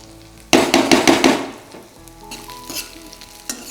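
Onions fry in hot tempering oil, a loud, close burst of crackling sizzle that fades into softer frying with a few scraping stirs, with no one speaking.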